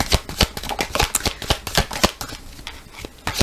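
Oracle cards being shuffled and handled up close, a fast run of crisp riffling flicks and slaps that slows and softens toward the end.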